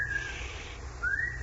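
A man whistles a short tune in two phrases, a pause between them, with a steady low hum underneath.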